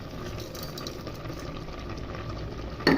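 A pot of amaranth greens and lentils simmers, a steady low bubbling and hiss throughout, ending in a brief louder clatter.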